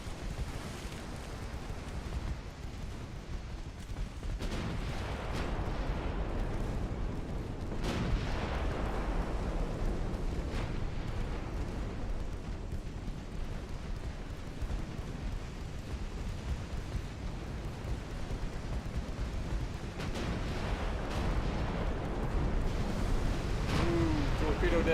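Naval main guns fire and shells explode in Ultimate Admiral Dreadnoughts, heard as a dense, continuous rumble with several sharper booms rising out of the steady din.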